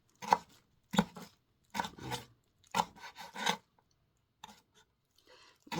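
A knife slices dongchimi radish thinly on a board, about eight crisp cutting strokes in a loose, uneven rhythm with short pauses, close and clear.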